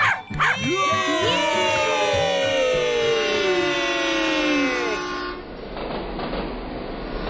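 Train running with a long horn blast sounding in a falling, sliding series of tones over the rumble of the cars, then settling into steady rolling track noise.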